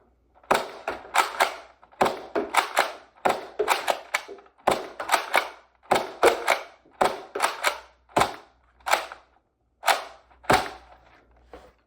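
A Nerf N-Series Strike Back shotgun-style blaster fires repeatedly in sharp, close bursts. Each shot is a quick cluster of clacks and pops from priming and launching darts, spaced about a second apart, with no talk.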